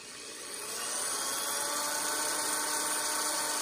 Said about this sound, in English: take a 1/16 inch drill bit, and while that wood is all the way in as far as it goes, just drill a little pilot hole